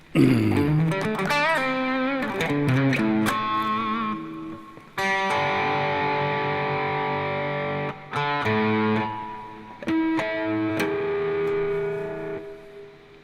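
An electric guitar played through heavy distortion rings out in loud sustained chords and bent notes, with short breaks between phrases, close and alone with no speech.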